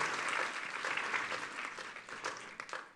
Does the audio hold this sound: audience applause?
yes